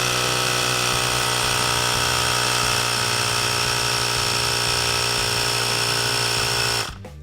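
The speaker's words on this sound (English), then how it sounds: "Grab your tire pump and attach the nozzle. And inflate to 36 psi." An electric tire pump inflates a Razor SX500 dirt bike tire to 36 psi, giving a loud, steady, buzzing motor drone with a rapid pulsing rhythm that runs for about seven seconds before cutting off abruptly.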